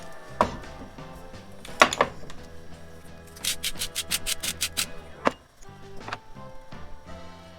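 Pepper being twisted out of a nearly empty grinder over vegan corn chowder, a quick run of about ten rapid, evenly spaced scraping crunches close up, framed by scattered kitchen knocks and rubs.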